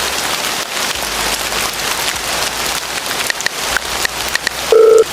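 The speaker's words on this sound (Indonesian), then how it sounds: "soalnya ini lagi hujan" Steady rain falls on a surface in the rainy season, a dense continuous patter that runs throughout, with a brief electronic tone near the end.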